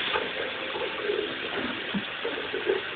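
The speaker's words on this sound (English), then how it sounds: "Now fill the bottle up with hot water." Continuous rush of hot tap water running steadily, a soft gushing flow with slight gurgles, no voices.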